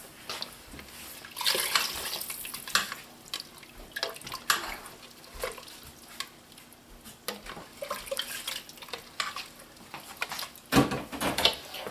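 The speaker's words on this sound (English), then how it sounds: "I'm going to add another cup of just water." Water poured into an Instant Pot already holding vegetable broth for lentil soup, a splashing, trickling pour that runs steadily for most of the twelve seconds, close and moderately loud, with no talking.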